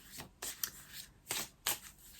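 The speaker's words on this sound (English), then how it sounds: "So let's pull a journey card" Oracle cards being shuffled close by, a few quick riffling bursts separated by short pauses, soft and crisp in a quiet room with no talking.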